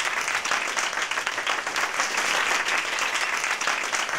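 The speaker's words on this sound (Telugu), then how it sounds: "ఎంట్రీతోనే అందరు క్లాపులు కొట్టేస్తూ ఉంటారు" An audience in a concert hall claps throughout, a dense, sustained round of applause at even strength with no voices above it.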